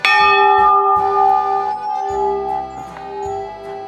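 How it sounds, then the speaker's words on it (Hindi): A temple bell rings at Gangotri on a snowy winter morning, loud and close, with a few struck tolls whose bright metallic tone hangs and fades between strikes. "सुबह सुबह मंदिर का घंटी बजा"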